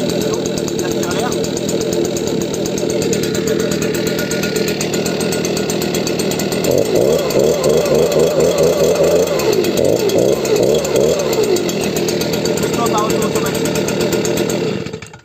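A Stihl power tool engine runs steadily and loud throughout, its turbine drawing in air with a buzzing drone that rises and wavers in the middle before cutting off at the end.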